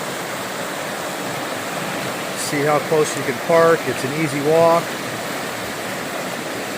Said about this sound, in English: That's literally where this pure water comes out of the ground. Flows down, and just past the bridge it joins the current river.